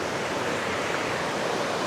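Water flowing in the Ovens River, where prospectors pan for gold, heard as a constant broad rushing wash with no breaks and no voices.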